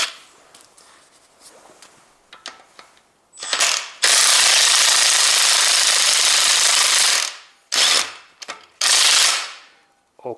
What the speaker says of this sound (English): I have to open this 12mm nut